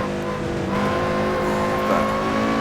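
Lotus Exige 240R on the Nordschleife, engine droning loud and close as the car brakes hard with the wheels locking up, a steady tonal hum shifting pitch slightly under braking.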